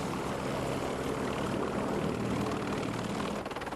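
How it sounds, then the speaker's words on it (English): Helicopter slowing as it approaches a ship's flight deck after a green deck signal, with a loud, steady rotor and engine roar and a dense blade thrum that stays close and even throughout, then dips slightly near the end. "This helicopter has been given a green deck and is slowing down as it approaches the flight deck"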